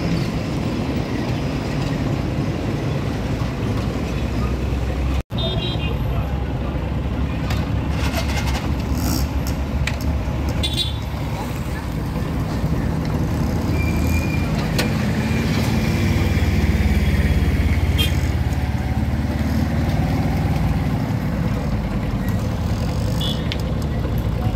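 A motorbike rides through road traffic toward a school, its engine droning steadily under wind rush, with passing vehicles and occasional horn-like tones in the background.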